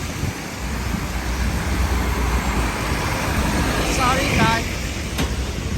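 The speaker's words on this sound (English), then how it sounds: "It's so windy." Strong wind buffets the microphone in a continuous rushing roar on a rainy New York street near West 52nd Street and Fifth Avenue, with distant traffic beneath. A person speaks briefly.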